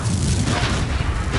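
Confringo explosive spell in Hogwarts Legacy, a heavy booming blast with rumbling low end, loud and near, sustained for the full instant with no talk.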